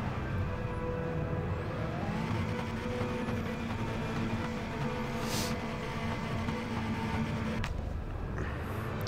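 Race car engines in the video game Hot Lap Racing drone steadily at the start of a race, a loud continuous layered hum with no pauses.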